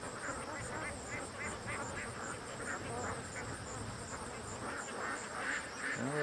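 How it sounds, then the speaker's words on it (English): Ducks near a pen quack in a busy, overlapping chorus close by, with geese nearby and a thin insect-like buzz running beneath, and no one speaking. "And the ducks are like right there and they're not freaked out."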